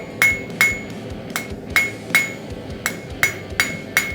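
A blacksmith forges hot metal on an anvil: about ten sharp, ringing hammer blows fall in an uneven rhythm, each with a bright metallic ring, close and clear with no talking.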